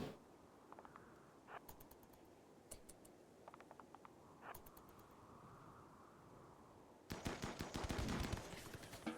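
Gunfire from colonists at shooting practice in RimWorld, scattered single shots early on, then a dense rapid burst of repeated shots toward the end, all fairly faint against a quiet game ambience.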